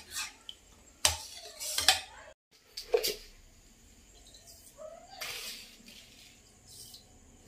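A spoon stirs custard and sugar in a pan, making sharp, irregular metallic clinks and scrapes with quiet gaps between, close by and fairly soft.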